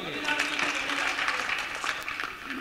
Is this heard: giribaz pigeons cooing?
no